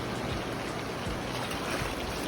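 A murky, rain-swollen river flows in a continuous broadband rush, steady and fairly close, with no voices.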